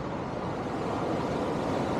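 Ocean surf rolling onto the beach at Punta Cana in the Dominican Republic, a steady continuous wash of waves with some wind noise, moderately loud, with no talking.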